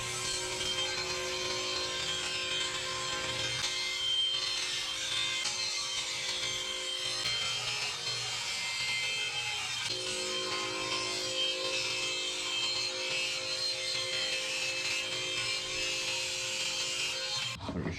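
Wood pieces for a brick-pattern cutting board are cut with a power saw that whines steadily and loudly up close for the whole stretch and then stops abruptly.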